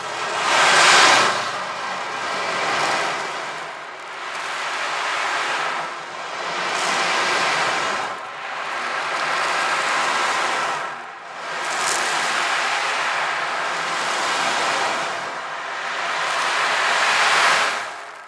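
An ocean drum is tilted back and forth to imitate sea waves, producing slow rolling surges of hissing rattle that swell and fade about every two to three seconds, close and unaccompanied by voices.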